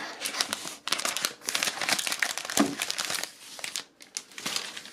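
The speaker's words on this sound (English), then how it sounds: "We have flipped it over and we're gonna peel it off" Plastic protective film being peeled off a new M1 MacBook Air, a close, continuous run of crinkling and crackling with short pauses between pulls and no talking.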